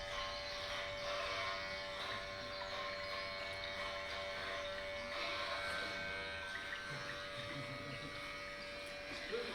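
A continuous electric shaver buzz, as used on a big beard, hums steadily from start to finish, close and fairly loud, with a faint voice briefly underneath.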